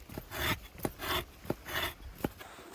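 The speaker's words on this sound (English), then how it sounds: "Sometimes you can get away with just using the back of your saw or the back of your knife to scrape away the" The back of a saw or knife scrapes the moist outer layer off a piece of wood at a riverside camp under an old bridge, four or five rough, rasping strokes in a steady rhythm, close and fairly quiet.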